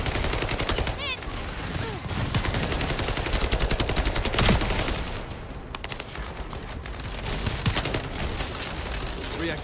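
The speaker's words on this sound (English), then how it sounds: "Operating assault turret." An assault turret blasts away in The First Descendant, a dense, continuous volley of rapid gunfire that is loud and close, carrying on for nearly the whole stretch with a slight dip midway.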